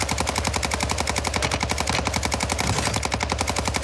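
Rapid automatic gunfire from the video game Warzone, a steady fast stream of close, loud shots running without pause for several seconds.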